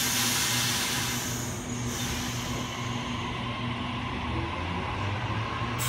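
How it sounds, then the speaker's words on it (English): An M-set Sydney Trains electric train running past platform 1 at Casula station, a loud continuous rumbling roar with steady droning tones, close by throughout. "We have an MSET passing platform 1."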